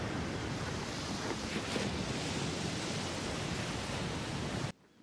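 Ocean waves in a scene from Better Call Saul roll as a steady broadband roar of surf and wind, constant and full, then cut abruptly to near-silence at the end.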